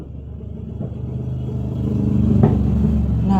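A motorcycle engine runs nearby at a low, rough putter, rising slightly in loudness with a clattering burst near the end, with no talk over it.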